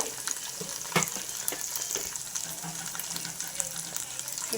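Biryani ingredients being stirred and mixed in a frying pan, with a steady wet sizzle and scattered clinks and scrapes of a spoon against the pan, close and moderately loud, with no one talking.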